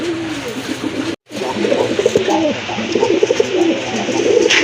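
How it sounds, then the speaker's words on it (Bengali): Fancy pigeons coo in soft, repeated throaty phrases close by, with a brief silent gap early on and steady low background noise. "আরেক জোড়া কবুতর দেখেন, খুবই অ্যাক্টিভ কবুতর, খুবই ডাকে"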